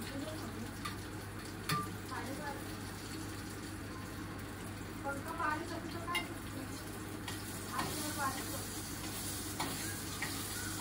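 Garlic and curry leaves sizzle in hot oil in a home kitchen, a steady low crackle with occasional stirring clinks, fairly faint throughout.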